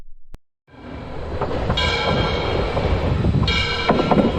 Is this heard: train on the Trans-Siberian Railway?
yes